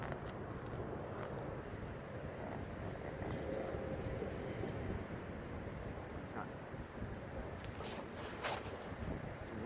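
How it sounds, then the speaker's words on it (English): Wind blows steadily outdoors during a fishing trip, a constant low rushing roar with microphone buffeting and faint splashes and clicks on top. "This wind out here is quite deceptive on these small lines."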